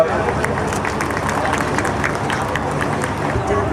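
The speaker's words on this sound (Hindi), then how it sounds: "एक बार करताल ध्वनि से आप उनका अभिनंदन करें" Audience applause at a foundation-stone ceremony, a dense steady patter of many hands clapping across a large gathering, with crowd murmur and talk running underneath.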